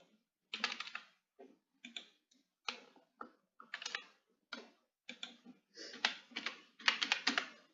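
Computer keyboard keys typed in short bursts of rapid clicks with brief pauses between, close and fairly quiet, no talking.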